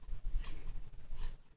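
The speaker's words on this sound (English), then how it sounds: "So we're just going to cut this off." Scissors snip through fabric while cutting a gothic dress into a bustier, two quick close cuts separated by soft rustling, quiet and without talk.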